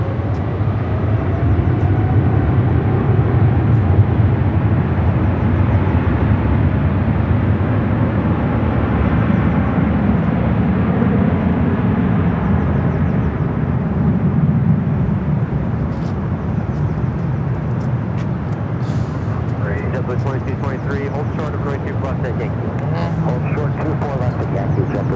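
A jet aircraft at Los Angeles airport, the Emirates plane, roars loud and steady for the whole span. The noise holds at near-constant strength and eases slightly toward the end, where brief faint clicks appear.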